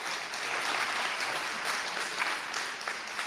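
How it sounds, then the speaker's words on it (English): An audience breaks into steady, continuous applause, with many hands clapping at once in a dense, even wash of sound that lasts a few seconds. "Look at how she actually got applause for that idiocy."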